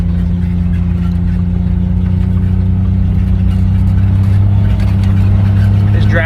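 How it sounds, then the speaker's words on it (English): A vehicle driving the perimeter of a 35-acre ranch, its engine giving a steady, loud, unbroken hum with a low droning tone throughout. "Just driving the perimeter of the 35 acres."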